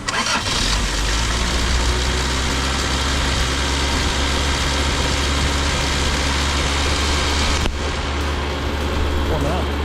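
A 1978 Honda Civic engine runs close by, its throttle cable recently shortened, holding a loud, steady, high idle with a slight rise in revs before settling near the end.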